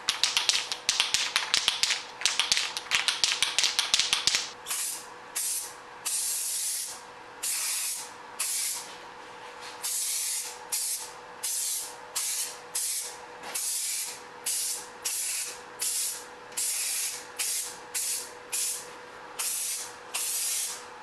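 Bed liner paint sprayed from a can onto an e-bike part: a dense continuous hiss at first, then a steady run of short separate spray bursts with brief gaps, close and fairly loud, with no talking.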